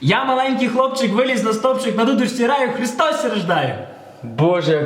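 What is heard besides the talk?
None of the usual background noises is heard.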